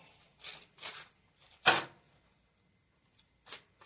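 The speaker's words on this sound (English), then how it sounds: "I just end up like shuffling cards, but like sometimes they fly out like that" A deck of cards is shuffled by hand in a quiet indoor room, giving several short riffling bursts separated by pauses, with one sharper, louder flutter in the middle; no talking is heard.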